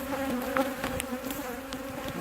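Bees or wasps swarming close by, a steady droning buzz that hangs through the whole stretch with a few louder passes near the mic, no talking.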